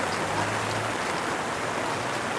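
Steady rain falls in a continuous, even hiss close by, with no breaks or voices.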